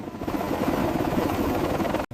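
A helicopter flying during a submarine salvage operation gives a loud, steady, close rotor roar that runs continuously before cutting off abruptly at the end.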